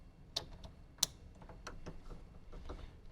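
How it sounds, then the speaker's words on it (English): Small plastic clicks and ticks as a speaker wiring connector is plugged in inside a Toyota 4Runner door, with two sharper snaps among lighter handling taps, close and quiet, with no talk. "Make our speaker connection."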